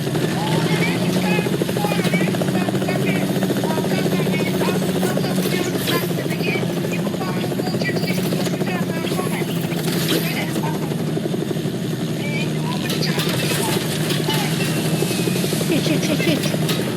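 A helicopter arrives in Fortnite, its steady loud rotor and engine drone filling the whole stretch without pause while a player talks over it.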